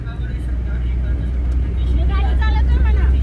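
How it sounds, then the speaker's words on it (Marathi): A car engine hums steadily from inside the moving vehicle, a loud low drone that runs through the whole stretch. A voice talks briefly over it toward the end. "आमची गाडी चालू आहे बघा"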